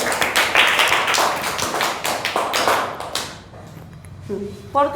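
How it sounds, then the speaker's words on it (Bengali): Children in a school classroom clap their hands together in a dense burst of rapid claps that tapers off, followed by a quieter pause and a brief voice. "মহিউদ্দিনের জন্য জোরে হাতে তালি দাও"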